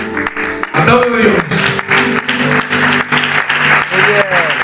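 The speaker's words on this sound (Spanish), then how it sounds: "Aplaude a Dios." A church congregation breaks into loud, dense applause that keeps going, heard close, while a preacher's voice carries over the clapping.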